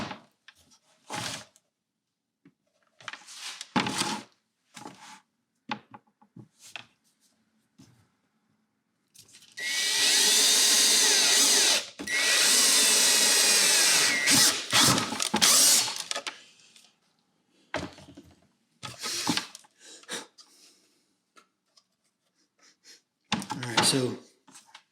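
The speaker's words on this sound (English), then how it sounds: "let me go ahead and drill the hole for that" A power drill whirs in a sustained burst of several seconds, with short pauses, amid scattered clicks and handling noises.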